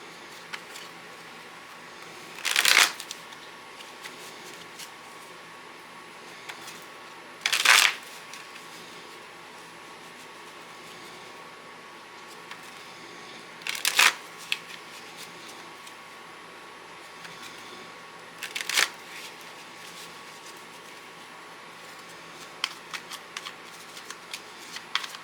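Tarot cards being shuffled by hand, four short crisp riffling bursts spaced several seconds apart, close and fairly loud against a quiet room with faint handling noises between them.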